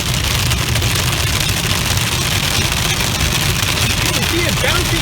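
Large marble-sized hail drums steadily and densely on a car during a storm drive in Central California, a loud continuous patter with engine rumble beneath and a voice talking over it.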